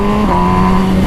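A stock-exhausted 2020 MV Agusta Brutale 1000 RR super naked motorcycle engine revving loud and close, its full, steady tone holding without a break for about a second.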